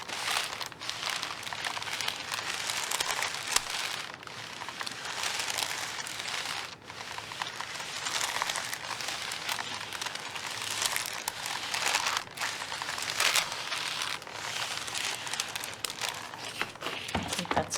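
Parchment paper crinkles and rustles steadily as card stock is heated beneath it, a close, continuous dry crackle with occasional sharper crinkles.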